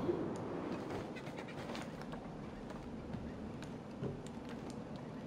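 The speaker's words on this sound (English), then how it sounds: "To be honest, I think it might be a seagull." Seagulls call in the Batman: Arkham City video game, faint cries scattered through a dense, steady wash of ambient game noise.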